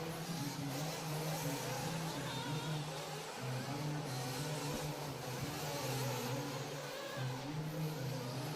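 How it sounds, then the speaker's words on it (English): Pro nitro RC buggies race around a track during qualifying at a championship event, their small engines producing a continuous high buzzing whine that rises and falls as they rev through corners, steady and fairly distant. "Pro Nitro Buggy underway"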